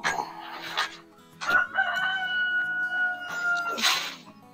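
A rooster crows on a farm during morning chores, one long drawn-out cock-a-doodle-doo rising and holding, close and loud, framed by bursts of clucking and other farmyard noise.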